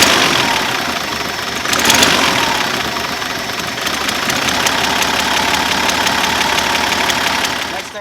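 A Datsun 280ZX engine idles with a misfire, giving a loud, continuous, rough running sound with uneven knocking pulses throughout, close by and with no talking.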